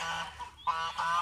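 Farm geese honk loudly and close by in a few drawn-out, nasal blasts, with a brief pause between calls and no voices.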